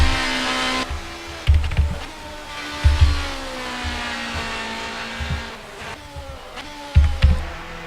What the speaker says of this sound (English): I like that Ferrari sound